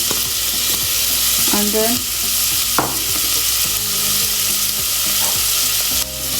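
Chopped onion hitting hot oil in a frying pan, a loud close continuous sizzle with scraping stirs and spoon clinks throughout, while a voice speaks briefly near the end.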